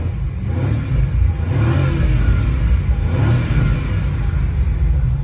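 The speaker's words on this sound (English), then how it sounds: "Let's go ahead and rev up the car here." A 2025 BMW M5 G90 in its sportiest M2 mode revs hard, the engine note swelling in two strong surges with a deep rumble, loud and close with no talk.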